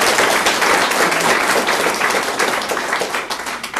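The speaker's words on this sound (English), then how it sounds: "That's an applause break." Applause breaks out at a Lake County Women's Hall of Fame honoring, a dense, steady wash of many hands clapping that holds loud for several seconds before starting to thin.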